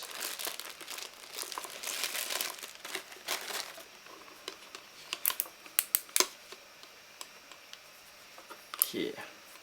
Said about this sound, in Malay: Kita buka plastik ni dulu.